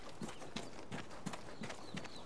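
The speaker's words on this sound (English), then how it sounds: "And I hear my footsteps very loudly." Footsteps in the PS4 shooter Vigor, about seven even, heavy steps that thud at a steady walking pace, close and fairly quiet with no talking.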